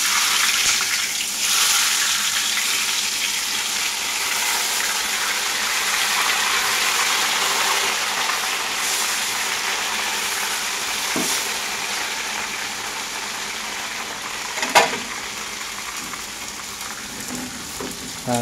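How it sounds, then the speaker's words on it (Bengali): Fish fries in oil for fish biryani with a long, even hiss of bubbling fat, and one brief sharp clatter near the end. "আমি এখন ফিশগুলারে অয়েল দিব এখানে।"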